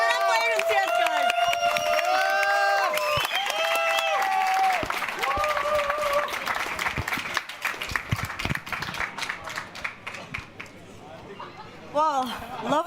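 An esports crowd cheers and applauds at a Counter-Strike world championship playoff, with dense clapping and shouts under a caster's voice, then the crowd noise thins toward the end.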